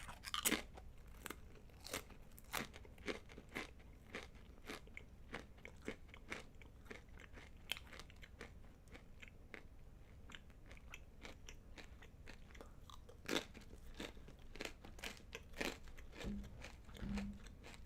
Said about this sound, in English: Is my chewing loud?